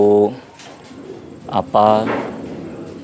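Racing pigeons at a loft in Karang Watu, Muntilan, give low, throaty coos in short bursts close to the microphone, while someone talks over and between the calls.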